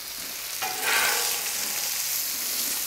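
Polish sausage frying on a Camp Chef FTG600 flat-top griddle beside fried cabbage: a continuous close, bright sizzle that swells into a louder hissing burst near the start, then holds steady with no voices.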